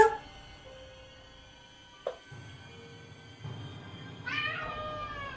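A cat meows several times indoors, a short cry near the start, a brief one midway and a louder drawn-out yowl toward the end, with quiet room noise between.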